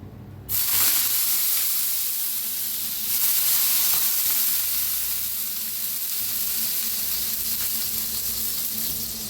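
Water splashed onto a hot, oiled iron tava for dosa bursts into a loud hissing sizzle that swells again moments later and then keeps up as a steady, fizzing steam hiss.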